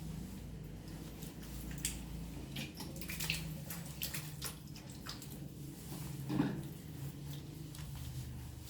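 Hands washed under running tap water, a steady splashing stream with small drips and squishy rubbing, moderately quiet and close, no talking.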